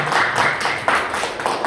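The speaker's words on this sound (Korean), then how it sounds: "박수를 청해 주시면" Audience applause at a senior citizens' association ceremony in a hall, a short burst of many hands clapping steadily and loudly, with no voices over it.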